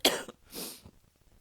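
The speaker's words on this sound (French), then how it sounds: "je vais tousser" A single sharp cough followed by a softer throat-clearing rasp, close and isolated in a quiet room.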